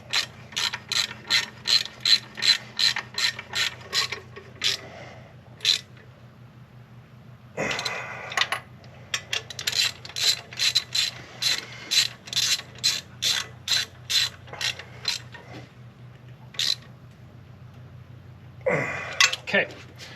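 A hand ratchet fitted with a 14mm socket tightens the bolts on a 130 amp Fox Body alternator, giving quick bursts of close, loud clicking strokes with short pauses between runs, and faint talk beneath.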